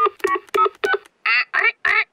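A cartoon telephone being dialed in Peppa Pig: a quick run of short electronic button beeps, then several longer warbling tones, loud and close with nothing else behind them.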